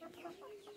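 Chickens cluck on a farm where a rooster is kept with the hens, a short close burst of clucking over a steady low hum.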